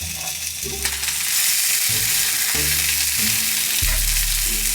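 Kaneka sausage frying in a pan, a loud, continuous close-up sizzle and crackle, with low background tones underneath and no talking.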